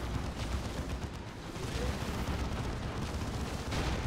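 Heavy cannon fire and battlefield explosions from the Demolisher Cannon in the strategy game Dawn of War 2: Retribution, a dense, continuous wash of booming blasts and gunfire.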